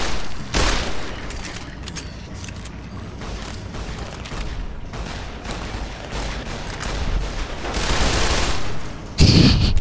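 Rapid gunfire from a weapon in Fallout: New Vegas, dense bursts of shots rattling continuously at close range before a louder blast near the end.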